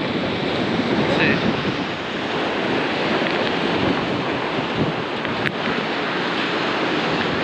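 Ocean surf rolls onto a beach during surfcasting for sea bass, a loud, continuous wash of breaking waves with some wind buffeting the microphone and no talk.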